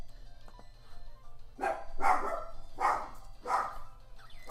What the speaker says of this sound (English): I don't know if you guys can hear that. That's my dog.